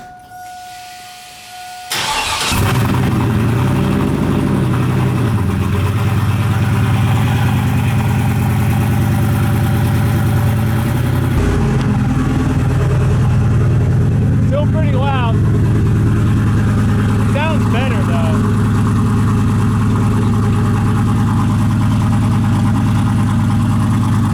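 A turbocharged LS engine in a street truck fires up and settles into a loud, deep idle through new mufflers, running steadily up close while people talk over it.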